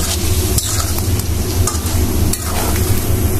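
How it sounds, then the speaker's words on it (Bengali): Eggplant and potato pieces stir-fried in a mustard and chili spice paste for a hilsa fish curry, giving a steady close-up sizzle with scraping stirs and occasional clatters, no voices. "একটু মিক্স করে নিব, বেগুন আর আলুগুলো কষিয়ে নিব।"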